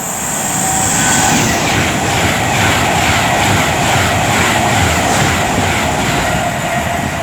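A Class 390 electric train from Liverpool Lime Street to London Euston approaches Milton Keynes Central on the West Coast Main Line. It makes a loud, continuous rushing roar with rhythmic rail beats, close by and without voices.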